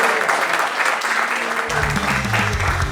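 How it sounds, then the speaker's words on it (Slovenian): Audience applause and cheering at a live comedy roast battle, a sustained wash of clapping that swells louder partway through, with a few voices mixed in. "dajmo en aplavz"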